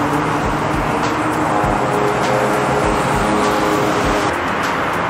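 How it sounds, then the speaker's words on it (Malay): Loud, continuous highway traffic with cars and motorcycles passing close by in a steady roar, engine swells rising and fading throughout. "Sebab kat atas highway ni memang bising gila. Bunyi motor dan kereta."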